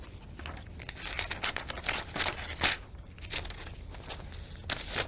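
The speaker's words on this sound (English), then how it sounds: "This outside is the certificate envelope. You'll need to open it." A ballot certificate envelope being opened by hand, a close run of paper tearing, rustling and crinkling noises in irregular bursts, with no voices.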